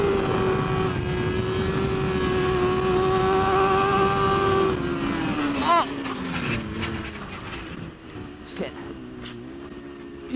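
A BMW S1000RR sport bike accelerates hard on a track. Its loud engine note holds high, then shifts and drops as the bike moves on, with wind noise and a voice under it.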